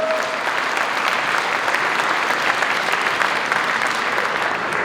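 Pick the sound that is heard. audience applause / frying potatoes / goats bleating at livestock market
audience applause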